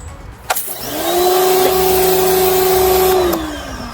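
Karcher K1700 Cube pressure washer with turbo nozzle cleaning grout starts with a click, whines up to a loud steady motor drone with spraying hiss, then winds down, close and without talk.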